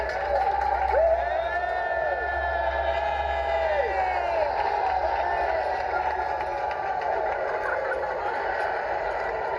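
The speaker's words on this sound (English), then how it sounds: "you might get a special cheer for Brough and Susie Scott" Outdoor crowd at the Royal Ascot royal procession, a sustained murmur of many people with scattered cheers and whoops rising above it, fairly distant and steady throughout.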